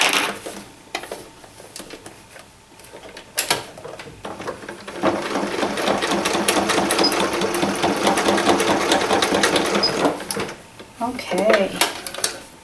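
A sewing machine back stitching through denim for a jeans purse: a few short stop-start bursts, then a steady loud whirring run of several seconds and a brief final burst, close up, with talking.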